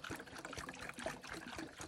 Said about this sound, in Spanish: Sale más chorro de la garrafa que hay que abrirle la boquera.